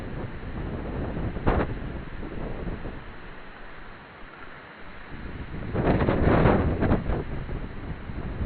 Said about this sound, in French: vent le plus puissant il est bien là